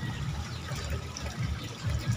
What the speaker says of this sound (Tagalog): Pag wala na tubig, dagdagan mo ng tubig.